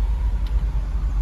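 A car pulls out of a parking spot, producing a steady low engine hum and tyre rumble close by, with no speech.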